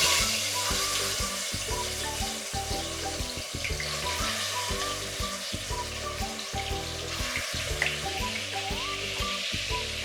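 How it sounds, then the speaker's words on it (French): Beef pieces laid into hot oil for Congolese makusa jollof rice give a steady, close sizzle with a running watery texture, holding at an even loudness for the whole stretch with no talk. "notre huile est bien chaude et on va mettre notre viande de bœuf"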